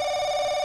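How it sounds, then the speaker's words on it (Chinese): A telephone rings in the horror RPG game Paranoiac, a steady, loud electronic bell tone held without a break, with no talking. "半夜谁打电话来啊？"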